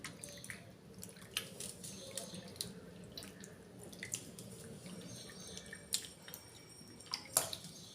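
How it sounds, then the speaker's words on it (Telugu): Rasam made with tamarind and tomato is poured through a strainer, giving a soft, steady trickle of liquid with light drips and small splashes, fairly quiet and close, with no talking. "ఇలా చెయ్యి ఇలా వడకట్టుకొని పోస్తే చింతపండు టమాటా అనేది మనకి లోపల పడకుండా ఉంటుంది"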